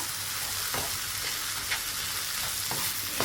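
Okra stir-frying in a pan with salt and turmeric gives a steady, fairly close sizzle, broken by a few brief spatula scrapes, with no talking.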